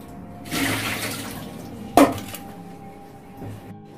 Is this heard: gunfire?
no